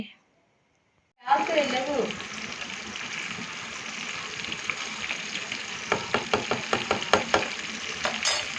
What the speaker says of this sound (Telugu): రెండో వైపు టర్న్ చేసుకొని మంచిగా గోల్డెన్ బ్రౌన్ కలర్ వచ్చే వరకు అయితే వేపుకోవాలి